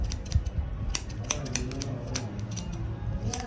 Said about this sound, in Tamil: சிசரில் லைட்டாக லெவல் பண்ண போகிறேன்